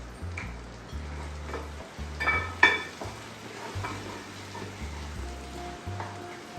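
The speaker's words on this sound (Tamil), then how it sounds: "5 மினிட்ஸ் மூடி வச்சு ஃப்ரை பண்ணால் சீக்கிரம் ஃப்ரை ஆகிடும்." Chicken and gongura leaves fry in a pan with a close, steady sizzle and crackle, broken by stirring scrapes and a few sharp clinks of a utensil against the metal, with no voices.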